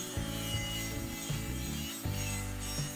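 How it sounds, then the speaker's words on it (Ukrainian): A metal wire brush on a tool scrubs rust from metal pipe, giving loud, close rasping strokes with a rhythmic grinding pulse. "Одягаю щітку по металу і зчищаю і ржу."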